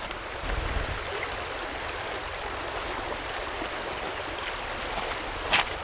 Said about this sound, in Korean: 물소리 들리십니까